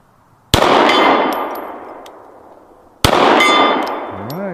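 Two sharp metallic clangs, a few seconds apart, as 9mm rounds from an M&P 2.0 pistol strike a steel red plate, each hit ringing and fading with a bright tonal decay, the shots loud and close.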